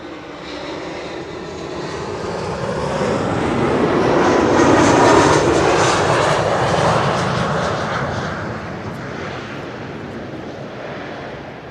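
A large jet airliner passes at Schiphol airport, its engines roaring in a broad swell that builds to a loud peak midway and then slowly fades.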